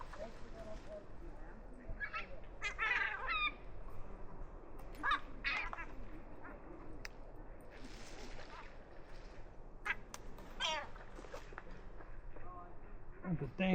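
Seagulls squawk and cry repeatedly at a red kite feeding site, the calls coming in bursts at moderate distance over steady outdoor background noise, with people talking now and then.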